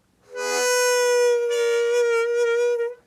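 A single sustained harmonica note is played with tongue blocking and bends as the tongue rises. It holds steady and loud for about two and a half seconds, alone and close.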